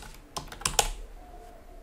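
Several quiet keystrokes on a computer keyboard, a short sparse burst of clicks up close, then faint room hum.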